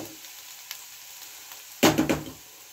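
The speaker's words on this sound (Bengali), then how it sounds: "পেঁয়াজটাকে ভালো করে লাল করে নেব।" Onions frying in a pan toward browning for a duck egg do pyaza, starting from a faint quiet background before a loud burst of sizzling with a few sharp crackling flares near the end.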